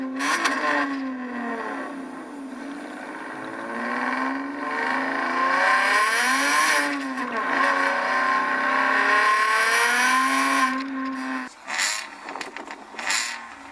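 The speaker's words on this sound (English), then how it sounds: "a fantastic V6 Giuseppe Busso engine, the most amazing sounding V6 engine on the planet" Alfa Romeo Busso V6 engine revving hard and alone, its rising and falling howl swelling through repeated throttle sweeps for about eleven seconds before dropping off into a few short blips.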